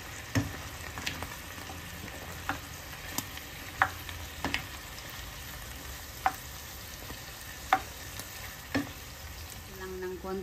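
A pot of pork sirloin stew with corn bubbling and simmering on a stove, with steady low hiss and scattered pops and clicks throughout, no talking.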